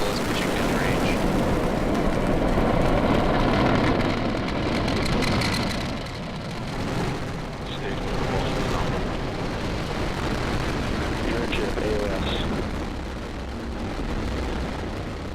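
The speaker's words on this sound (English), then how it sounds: "Ignition, liftoff." SpaceX Falcon rocket engines roar after liftoff on the CRS-17 launch, a dense, continuous rumble heard from a distance that slowly eases, with a voice talking over it.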